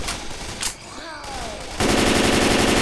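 Left 4 Dead 2 co-op gunfire: a few scattered shots, then a dense, loud, rapid burst of automatic fire that keeps going until the end.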